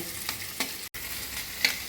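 Onions fry with salt in a pan, giving a continuous steady sizzle with soft stirring scrapes and a brief break in the middle.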